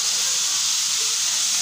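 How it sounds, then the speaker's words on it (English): Pork frying until crispy in a pan produces a loud, continuous bright hiss of sizzling oil, steady and close without breaks. "We fry the first until it's crispy"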